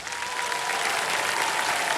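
A studio audience on a TV quiz show bursts into loud, dense applause that holds steady throughout, close and continuous with no talking over it.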